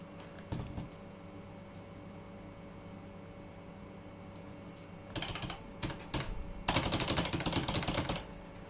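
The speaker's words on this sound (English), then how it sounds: "You don't really want to hear me typing." Keys clatter on a computer keyboard in quiet bursts, sparse taps first, then denser rapid runs of typing, close and moderately loud with no talking.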